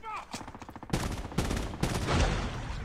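Swordfish burst rifle fire in the mobile shooter Call of Duty Mobile, heard as a quick rattle of shots followed by loud, dense bursts of gunfire with overlapping in-game combat noise, no talk.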